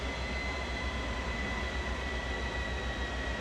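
Jet engine of an F-14 Tomcat in Flight Simulator 2020 spooling down under auto throttle, a steady droning roar with a low rumble and faint high whine, continuous and unbroken.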